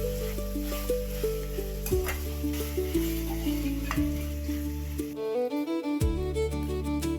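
Prawns stirred and frying with masala, cumin, coriander seeds and fresh coriander give a soft sizzle beneath louder, steady background music.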